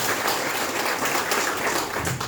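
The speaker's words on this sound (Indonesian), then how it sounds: "Luar biasa, berikan aplaus." An audience claps together in a formal welcome gathering, a dense, steady round of applause close by that runs the whole time without a pause.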